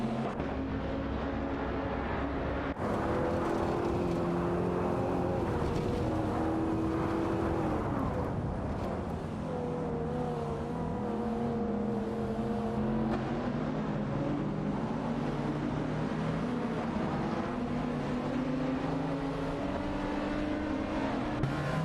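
A race car in a racing video game, its engine droning steadily with shifting revving pitch throughout, close and continuous, with no talk over it.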